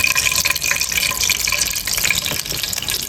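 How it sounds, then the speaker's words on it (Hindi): Ghee pouring into a pan while preparing Afghani chicken leg roast: a continuous, close liquid pour and sizzle lasting the whole moment, with no talking over it. "मैं इसमें ये घी डाल रहा हूँ तकरीबन 3 टेबल स्पून"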